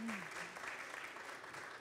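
An audience at a French talk on food traceability and blockchain applauds a speaker, a faint, steady wash of clapping with a brief voice at the start.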